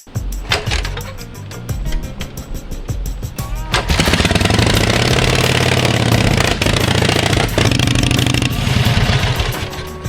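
A motorcycle engine sputters, then roars into a loud, steady run close by, its rough mechanical rumble continuing throughout.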